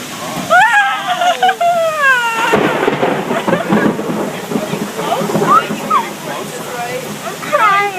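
Thunderstorm over Traverse City with heavy rain and a sudden crack and rumble of thunder, loud and close, while people talk excitedly throughout.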